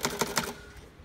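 Typing on a 1948 Remington Noiseless Model 7 typewriter produces three soft, muffled keystrokes in quick succession, followed by a quiet fading tail, close and without talk.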